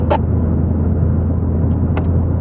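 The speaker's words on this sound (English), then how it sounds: "Yep, there is a car coming from the left." A car approaches from the left on a gravel backcountry overland route in Idaho, a loud steady engine rumble filling the clip, with two brief sharper noises near the start and end.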